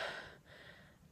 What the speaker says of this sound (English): Sorry, I'm breathing heavy.